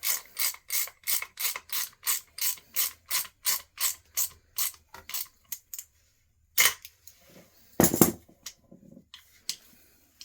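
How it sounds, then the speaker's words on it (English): Wrench ratchet clicking while tightening a part on a Hydrow rowing machine during a reel replacement: a close, steady run of about a dozen quick pawl clicks, then a pause and a few louder isolated clunks. "Wrench. Make sure we're tight here."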